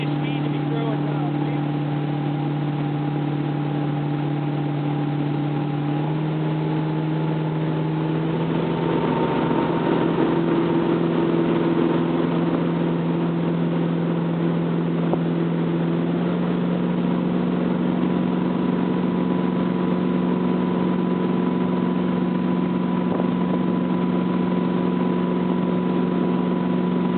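An inboard Cobalt motorboat drones steadily at about 23 mph, with a constant hum and rushing water, loud and close for the whole stretch, under a faint muffled voice.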